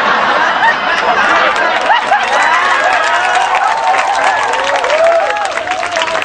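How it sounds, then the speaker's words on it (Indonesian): Audience at a religious lecture clapping and laughing together, a steady dense wash of applause mixed with chuckles and crowd chatter throughout. "Aku tahu dia ikut tepuk tangan kok."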